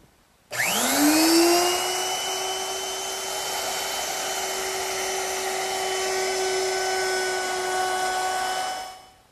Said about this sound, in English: Now I'm going to round over the bottom edge of my top with a quarter inch rounding over bit.